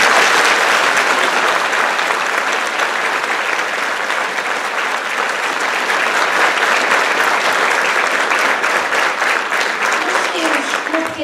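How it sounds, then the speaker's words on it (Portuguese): Sustained applause from a large crowd at a senior citizens' carnival performance, loud and steady, with many hands clapping continuously for about eleven seconds. "gostava de pedir mais uma salva de palmas."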